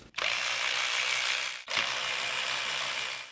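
A ratchet clicks rapidly and loudly while loosening the 10 mm valve cover bolts on a Hyundai Elantra, two long continuous runs split by a brief pause.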